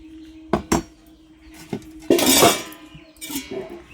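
Shrimp curry cooked with stalks and ripe pumpkin is served onto a plate. Metal utensils clink and scrape against the dish in a few sharp, close knocks, followed by a longer scraping clatter, and no one speaks.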